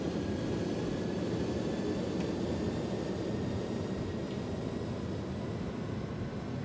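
Steady broadband roar of Airbus A300 engines at flex takeoff power in a flight simulator, a constant loud rumble with no talk.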